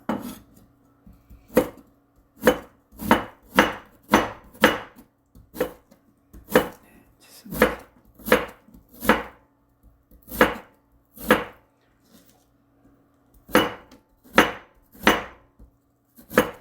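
Knife julienning radish on a cutting board for Korean bean sprout and radish rice, crisp distinct chops in short bursts with brief pauses, close and clear.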